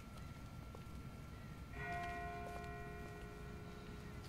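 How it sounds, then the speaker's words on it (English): In The Walking Dead video game, a distant bell rings once with a sustained metallic tone that hangs faintly over a low, steady background rumble. "That's not the same bell as before. This one's further off."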